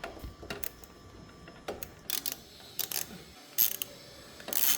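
Wrench loosening a bolt on a Honda Africa Twin CRF1100 coolant reservoir, giving a few faint scattered ratcheting clicks and metallic taps in a quiet workshop.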